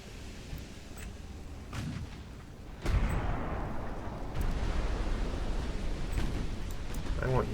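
Naval guns fire in the warship game Ultimate Admiral: Dreadnoughts as light cruisers engage merchant vessels, with a heavy boom and rumbling roll partway through over constant battle noise while a voice talks.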